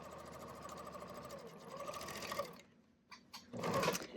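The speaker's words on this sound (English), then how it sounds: "I'm going to serge along here" A serger overlocking fabric for pajama shorts, working in a costume shop: a steady, fast mechanical whir that runs continuously, eases off briefly, then resumes in short bursts near the end.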